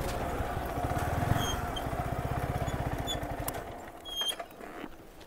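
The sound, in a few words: motorcycle riding past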